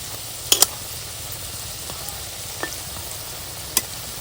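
Puffed rice snack pieces fry in hot oil, giving a steady low sizzle with a few sharp pops and clinks of a utensil scattered through, and no voices.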